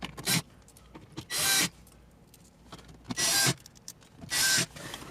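A power driver runs four gold screws into the radio bezel during a stereo installation in an Acura TLX dashboard, heard as four short, loud whirring bursts separated by quiet pauses.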